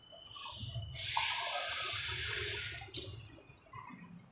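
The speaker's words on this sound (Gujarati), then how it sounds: "એમાં આપણે પાણી નાખશું આપણે બે કપ ભરીને પાણી નાખીશું" Water gushing from a tap into a cup in a home kitchen, about two seconds of steady loud flow that stops sharply, followed by a short splash and quiet handling sounds.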